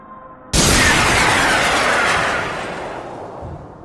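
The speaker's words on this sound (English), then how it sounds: "We're going to cut 4 strips at 2 centimeters each" A power saw cuts strips from an old wooden scaffold board, starting with a sudden loud roar that then tapers off slowly, with no talk.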